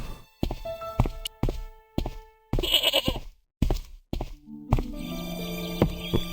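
A goat in the Broken Sword game, tethered by a tangled rope to an old rusted plowshare in Ireland, gives a few bleats mixed with thumps and knocks, close and fairly loud.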